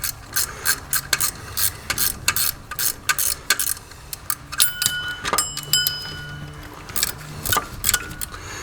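Pulley bolts on a vacuum pump are run in evenly with a ratchet, producing rapid close clicking bursts in repeated short runs with brief pauses and occasional metallic clinks.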